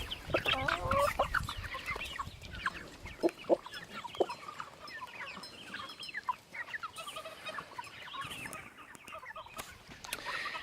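A rooster clucking and calling hens over to food, with other chickens clucking and crowing around it in a homestead yard; repeated short calls close by, fairly continuous over the whole stretch.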